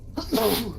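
A single sharp sneeze bursts out close by during a tabletop role-playing game session, short and loud against a quiet room.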